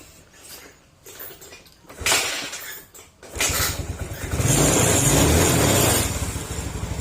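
A Yamaha Sporty motorcycle with a fault that makes it stall over bumps is kick-started: a few quiet mechanical knocks, then a loud thump as the engine catches, followed by a steady, close, rough running rumble.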